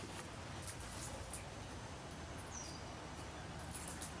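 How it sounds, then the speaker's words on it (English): Small birds call faintly in an Australian backyard, with brief high chirps and a thin whistle scattered over a steady low background hum. "I can hear little birds."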